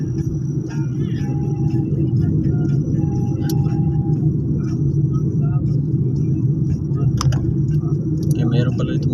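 Car traffic rumbles steadily on a coastal road near a bridge, a continuous low road roar heard from close by with a faint rattle now and then, while a voice talks over it.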